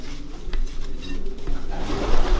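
Domestic pigeons coo in a breeding loft, low rolling calls overlapping steadily at moderate distance with a faint clatter of movement in the background and no talking.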